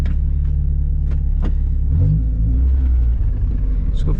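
Mazda Miata with a new coolant reroute and dual-core radiator idles with a low, steady rumble, close and even, with a few small clicks and a brief deeper swell midway.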